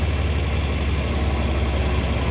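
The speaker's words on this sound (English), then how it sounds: "I just love the way this tractor sounds." A tractor engine idles close by, a loud steady low rumble with even throbbing and no variation or other sounds across the short stretch.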